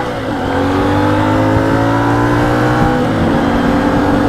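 A 2025 Ibex 450 motorcycle pulls hard from low speed, its engine note loud and continuous, rising steadily in pitch through the gears with wind noise and no talking.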